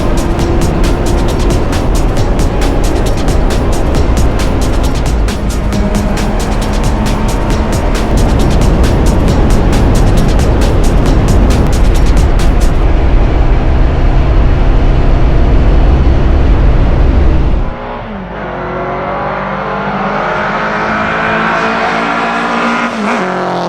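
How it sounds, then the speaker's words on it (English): A Crossley Motorsport race car roars past at Goodwood's 83rd Members' Meeting, its engine loud and close with a rising wail. The sound then drops away abruptly to a lower, fading drone as the car moves off. "The engine just sounds fantastic."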